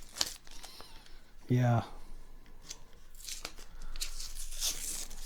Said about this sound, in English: Have I ever told you guys how much I hate taping?